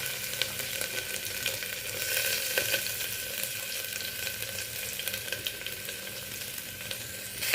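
Spices crackling and sizzling in hot oil in a pan, a steady bright fizz with scattered pops, fairly faint and with no voices.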